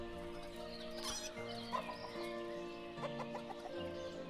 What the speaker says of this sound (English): I love hearing my rooster crow.